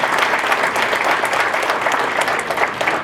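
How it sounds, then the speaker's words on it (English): An audience applauds an award recipient at a county superintendent's award of excellence ceremony, loud, sustained clapping from many hands filling the whole stretch without pause. "Let's give him another round of applause"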